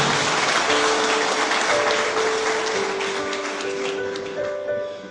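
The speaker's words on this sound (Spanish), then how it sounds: "Fuerte aplauso al Espíritu de Dios." A church congregation at a Catholic service applauds loudly and continuously, a dense wash of many hands with sustained organ or keyboard tones ringing beneath, fading slightly toward the end.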